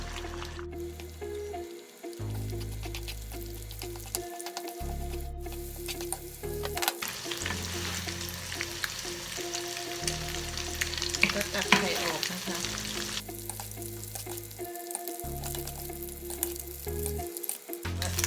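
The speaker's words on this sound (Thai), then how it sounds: "ยายใส่ไข่ลงไปเลยค่ะ เดี๋ยวรอผัดไข่ให้สุกนะคะ" Eggs frying with butternut squash in a pan, a loud continuous sizzle with stirring scrapes and occasional clicks of a utensil, close up with no talking.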